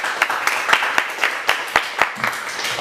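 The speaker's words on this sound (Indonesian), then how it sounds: "Tepuk tangan untuk madrasah kita." Audience clapping at a madrasah school oration event in Pemalang, Central Java: a moderately loud, steady patter of hands with sharper individual claps popping out at an uneven rhythm, no voices over it.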